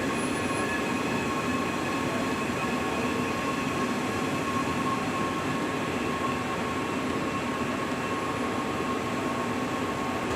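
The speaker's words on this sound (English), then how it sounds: "Now it's printing in duplex mode." A Heidelberg Jetfire 50 inkjet printer runs in duplex mode, a steady dense mechanical rumble and whir with constant hiss and faint high tones, close and unbroken, with no talking.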